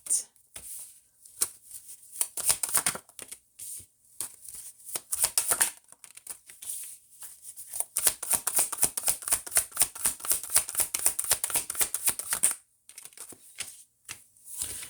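Tarot cards being shuffled close up, with quick bursts of riffling and flicking card sounds, the busiest shuffling near the middle, and a quiet voice talking now and then.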